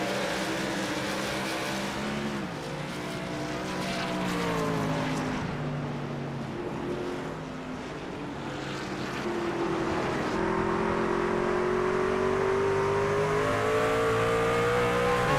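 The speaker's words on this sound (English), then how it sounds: "You see that gaggle of trucks right there in front of Jonathan Jennings." A pack of race trucks drives together in a truck-series racing video game, several engines droning and overlapping with shifting pitch, loud and sustained throughout without talk.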